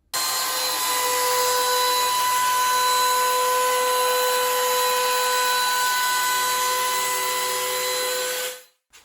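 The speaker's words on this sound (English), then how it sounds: "What I'm using is my small handheld router with an 1/8 inch roundover bit." A small handheld router fitted with a 1/8 inch roundover bit rounds over the edges of an oak dining table and bench, a loud, close, steady high-pitched motor whine with cutting noise that runs continuously for about eight seconds, then spins down.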